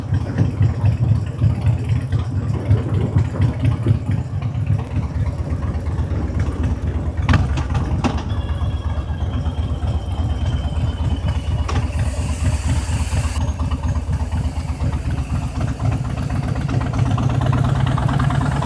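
A car engine idles for nearly twenty seconds, a close, steady low rumble with an even throb, briefly rising in pitch a few times as if lightly revved, with occasional faint clicks and rattles but no talking.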